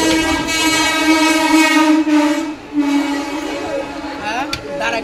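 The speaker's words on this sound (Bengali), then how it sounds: "ট্রেন অন টাইম ঢুকিয়ে দিয়েছে, অন টাইমের আগেই ঢুকিয়ে দিয়েছে, ব্যারাকপুরে দাঁড়িয়ে রয়েছে।" A passenger train pulls into Barrackpore station, its loud sustained horn ringing out close by over rumbling wheels and carriage noise, with a second horn blast near the end.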